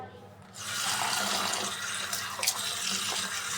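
Running water splashes into a pot as rice with mung and red lentils is rinsed, starting after a brief quiet moment and then flowing steadily and close, with a few sharper splashes.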